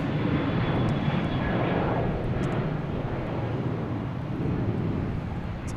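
American Airlines jet bound for Philadelphia drones with a steady, moderately distant engine roar and a faint whine, holding an even level throughout.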